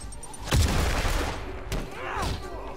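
Gunfire in the Spider-Man PS4 video game, a dull booming burst followed by a sustained rumbling volley with ringing tails, loud and dense over a steady background roar.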